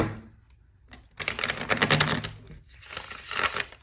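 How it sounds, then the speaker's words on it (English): Crisp, rapid riffling of a new tarot deck being shuffled in two bursts, close and fairly loud, with a brief pause between them. "Sometimes these new decks, they just won't shuffle very good."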